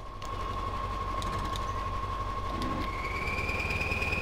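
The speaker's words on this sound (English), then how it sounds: "every time you turn, it revs the engine, and then you get that annoying whirring noise" A steady mechanical truck engine drone with a constant whine in the video game MudRunner, a rising whirring tone appearing near the end as it turns, loud and continuous with no talking.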